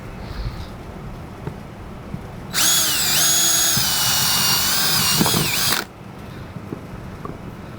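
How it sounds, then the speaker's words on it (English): Step drill bit boring into plastic pipe for an aeration system install, a loud, steady whining drill burst of about three seconds that rises suddenly and cuts off, set against a quiet room. "So I like using a step bit and working on a surface that's easy enough to clean up, because this is going to make a lot of plastic scrap."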